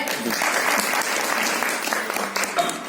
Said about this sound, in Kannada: ನನ್ನ ಕಡೆಯಿಂದ ದೊಡ್ಡ ಒಂದು ಚಪ್ಪಾಳೆ